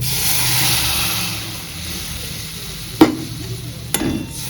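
A hot pan sizzles steadily, with two sharp clanks as water is poured in and the hiss briefly changes before settling.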